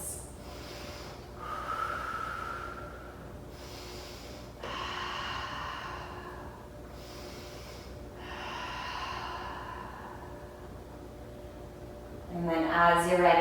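Deep, audible breaths in a yoga twist during a vinyasa flow class, several slow inhales and exhales spaced across a calm background, with a brief sharper sound at the end.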